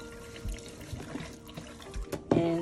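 Water from a faucet runs and splashes while hair in a protective natural hairstyle is rinsed with medium to cool water, faint and uneven, with small drips and gurgles and a brief louder gush near the end.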